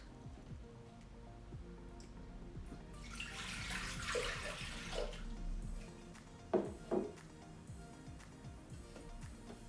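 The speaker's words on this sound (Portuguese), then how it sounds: "Colocamos no nosso copo a água e o fermento." Water and yeast are poured into a Thermomix bowl, making a soft splashing pour that swells in the middle and then trails into a few drips and small knocks in a quiet kitchen.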